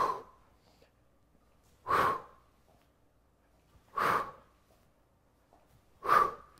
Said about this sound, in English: Breathing out as I come up with the leg.